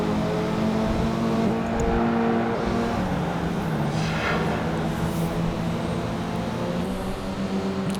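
Race cars run in Project Gotham Racing 2 during the Pacific Muscle Series, a steady engine drone with shifting pitch and a brief passing swell, moderately loud with no talk.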